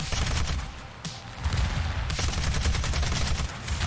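A Spitfire LF Mk fighter in War Thunder fires its machine guns in rapid, rattling bursts, a dense stream of shots broken by one brief gap, loud and close throughout.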